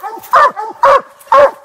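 Walker hounds bark at a treed animal during a hunt outdoors, giving three loud, close barks in quick succession.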